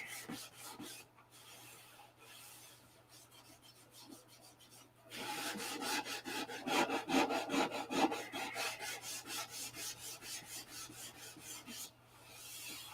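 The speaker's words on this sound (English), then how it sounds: "There is a ton of sanding to do." Hand sanding of a P-47 model makes continuous rhythmic rasping strokes, soft at first and then louder and faster, close up with no talking.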